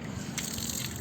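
Steady running water splashes continuously through a short stretch as hands are washed, a close, even gush with brief brighter spurts of spray and no talk over it.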